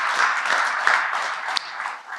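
Applause from an audience, a steady wash of clapping that holds at an even level for a couple of seconds with no voices over it.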